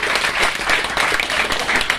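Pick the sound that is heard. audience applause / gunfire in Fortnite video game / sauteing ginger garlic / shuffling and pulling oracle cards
audience applause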